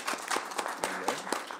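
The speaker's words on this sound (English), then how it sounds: "round of applause for everybody" Audience at a transit board meeting gives a brief round of applause, a short wash of many hands clapping at moderate distance, fairly soft and alone without talk.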